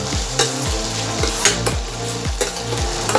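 Tomatoes and onion sauté in a pan for a spinach paneer bhurji, with a steady sizzle under rhythmic, repeated scrapes of the stirring spoon and no talking.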